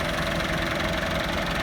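A Massey Ferguson 375 tractor strains while hauling a fully loaded trailer toward a paved road, its engine producing a loud, close, steady diesel drone with a rough knocking rumble and no pauses.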